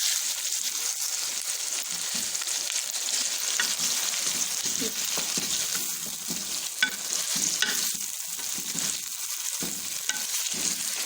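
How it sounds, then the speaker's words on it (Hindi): Chicken frying hard over a high flame for Sindhi biryani, a loud, continuous crackling sizzle broken by irregular stirring scrapes and small pops, heard close with no voices. "तेज़ आँच पे पकाना होता है, क्योंकि आँच तेज़ करनी ताकि तब चिकन का जो है वो कलर चेंज हो जाए।"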